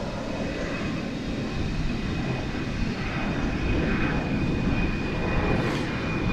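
An aircraft at Dallas/Fort Worth (DFW) Airport gives a steady, even broadband roar that holds at one level for the whole stretch, with no voices over it.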